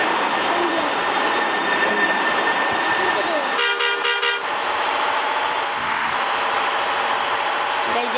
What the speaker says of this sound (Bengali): ট্রেন গাড়ি দিতেছে।